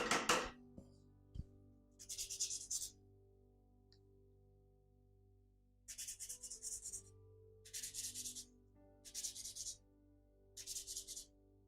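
A black drawing pencil being sharpened, several rasping strokes in separate bursts of about a second each with pauses between, close and crisp in a quiet room.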